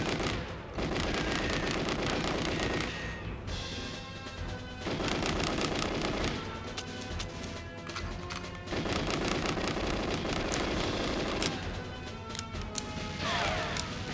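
Rapid bursts of video-game gunfire from GoldenEye 007 on the Nintendo 64, Depot level, come in several loud sustained volleys separated by short pauses, alone with no talk.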